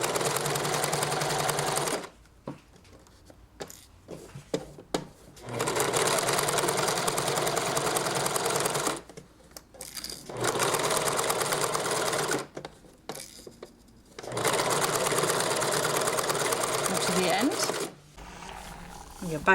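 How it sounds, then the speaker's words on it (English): A sewing machine stitches the back pieces of a bolero together in loud, fast, steady runs of several seconds each, broken by pauses with light handling clicks and rustles between the bursts. "here we're going to sew the back together now."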